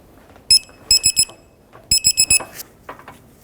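A torque wrench on a 2006-2010 Hyundai Sonata front upper control arm signals 207 foot-pounds with sharp electronic beeps in quick bursts of three to five, loud and close, with short gaps between bursts.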